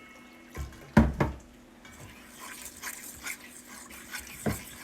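Water runs from a kitchen tap while making vegan sweet potato pancakes, with a couple of sharp clattering knocks early on, then a low steady splash and trickle; a voice briefly speaks.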